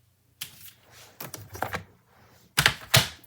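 Scrapbook paper being cut on a trimmer, several sharp sliding swipes and clunks spaced out over a few seconds, close and fairly loud with quiet gaps between.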